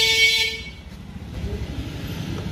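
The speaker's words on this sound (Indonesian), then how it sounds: "tombol klakson, tombol sen kanan kiri, klakson di, ya klaksonnya di situ ya." Horn of a 2024 Honda Stylo 160 CBS scooter gives a short, close, loud beep that fades quickly, leaving low engine or background rumble.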